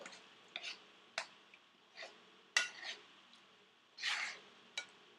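Chicken karahi with spoonfuls of yogurt being mixed in a pan, with a run of separate soft scrapes and clinks of a utensil against the pan, fairly quiet and spaced about a second apart.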